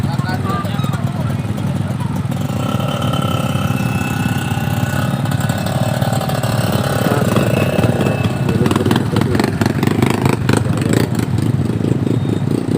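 Motorcycle engines idle and rev continuously on a muddy alternative road at Gumitir, loud and close throughout, with the engines straining as the bikes struggle to climb. People talk underneath the engine noise.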